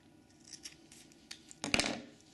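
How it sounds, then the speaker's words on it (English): Strapping is snipped to length with a quiet series of small cutting clicks, ending in a louder crisp snip and rustle close by. "And then you want to cut it to length."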